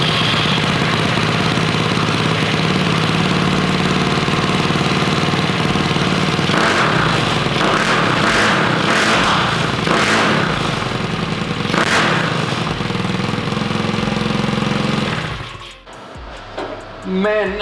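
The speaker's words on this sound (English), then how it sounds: "it has a bigger diameter exhaust pipe and the sound is deeper" A GY6 150cc scooter engine fitted with a custom larger-diameter exhaust runs steadily near the microphone with a deep, continuous drone and some revving swells, then cuts out near the end.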